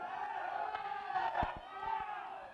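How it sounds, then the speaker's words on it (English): Small crowd of fans cheering and whooping at a high school baseball game, a steady mid-distance roar of voices with a few louder shouts rising near the middle. "That noise you hear, the few fans that are here cheering."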